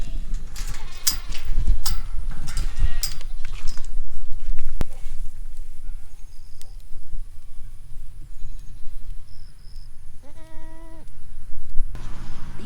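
Mother goats bleating in a farm goat pasture, a few short wavering calls standing out near the end over steady outdoor noise, with some rustling and movement earlier.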